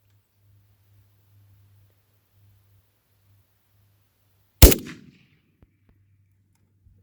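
A single loud, sharp rifle shot from a PolyTech Type 81 at an outdoor range cracks out and decays quickly, with a faint low hum before and after and no talking.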